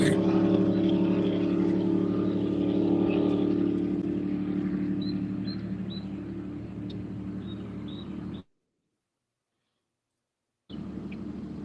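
A big motorboat passes out on the water during a fishing tournament, its steady low engine drone loud at first and slowly fading over several seconds before the sound cuts out.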